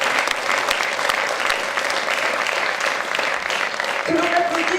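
Sustained audience applause at a French regional ceremony honoring craftsmen, dense steady clapping throughout, with a faint voice surfacing near the end.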